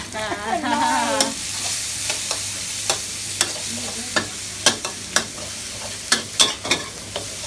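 Clams stir-frying in about three tablespoons of hot cooking oil for a Thai herbal-sauce dish, a close, continuous sizzle broken by repeated sharp stirring scrapes and clatters, with a brief voice near the start.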